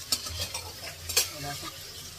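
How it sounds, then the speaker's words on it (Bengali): Paneer cubes for pulao frying in a pan and stirred gently, a soft sizzle broken by a few sharp scrapes and clinks of the spatula, close and fairly quiet with no voices. "পোলাওতে দেবো বলে একটু পনির ভেজে নিচ্ছি"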